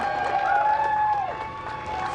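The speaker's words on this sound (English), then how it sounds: "Small crowd, but big cheers." A small crowd cheers and claps for NASA astronauts on the SpaceX Demo-2 launch day, with a sustained whoop in the middle and a reporter speaking over it.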